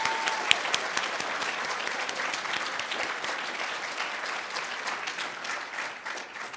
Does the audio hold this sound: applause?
yes